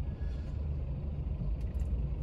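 Night city traffic in Jundiaí heard from inside an Uber car, a steady low engine and road rumble with faint passing-vehicle noise, continuous and muffled by the cabin.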